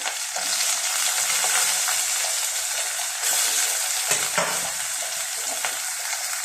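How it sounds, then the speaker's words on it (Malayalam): Large onions fry in hot oil in a pan, a loud continuous sizzle with scraping stirs breaking through it now and then. "ഈ ഉള്ളി ഇടട്ടോ അതിലേക്ക്."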